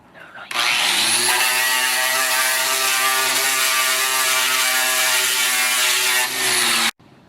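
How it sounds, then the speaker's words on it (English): A 7-inch angle grinder with a 16-grit sanding pad sands a deck, starting with a sharp rise to a loud, steady high-pitched whine that holds for about six seconds, dips briefly, then cuts off abruptly. "I'm going to be using a 7-inch grinder with a 16 grit sanding pad on here."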